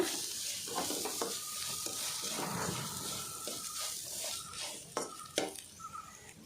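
Grated carrot frying in a pan for carrot kheer, a soft sizzle with stirring and scraping, and a few sharp utensil clinks against the pan near the end.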